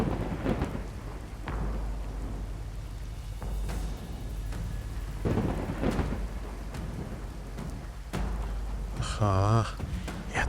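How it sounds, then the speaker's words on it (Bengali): Cartoon storm sound effect of heavy rain with deep rolling thunder booms in several bursts, ending with a short rising tonal effect. "তার উপর এই ঝড় বৃষ্টি"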